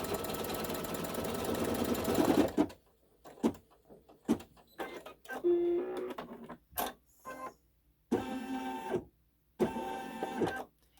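A sewing machine stitches a quilt block for a Halloween haunted house pattern, starting with a long steady run of rapid mechanical chatter, then several short separate bursts broken by pauses, close and clear.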